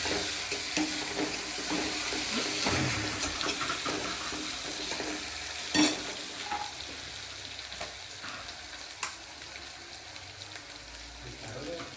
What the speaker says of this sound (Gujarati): તતરી જશે એટલે લીલા મરચાં નાખીએ